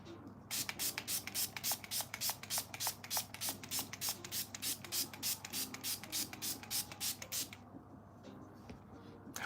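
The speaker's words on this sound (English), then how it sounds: "let's spray it for God's sake." Makeup setting spray misted in rapid repeated pumps, around twenty quick bursts in a steady rhythm over several seconds during a glam makeover, close and fairly loud, then stopping with soft handling noise.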